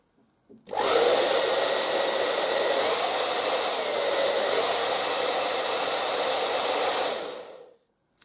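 An ETI Professional Turbodryer 2000 hair dryer with a dusty fan switches on and runs with a steady, loud whooshing roar for about six seconds, then winds down and stops.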